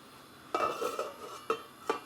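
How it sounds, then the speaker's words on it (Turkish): A metal lid is set onto a cooking pot of cabbage rolls with a clattering clink, followed by two smaller metallic knocks, faint and close in a quiet kitchen. "Kapağımı da şöyle koyacağım üstüne."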